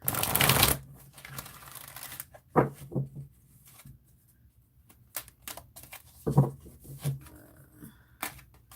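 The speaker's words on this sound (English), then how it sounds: "I'm gonna shuffle one more time." A burst of riffling cards, followed by a few soft taps and shuffles of a deck, close and quiet, separated by pauses.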